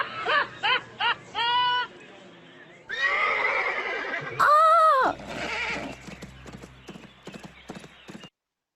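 A horse in a children's story recording gives a series of loud, wavering neighs and whinnies, then hooves clip-clop rapidly as it runs off.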